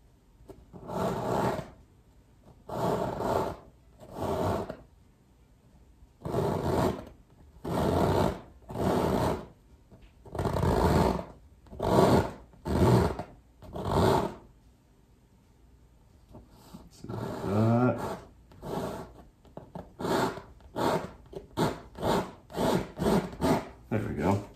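A painting tool scrapes paint across a black canvas while a winter cabin scene is being painted, in repeated bursts of rough rasping strokes separated by short pauses. The strokes are close and fairly loud, and no voice is heard.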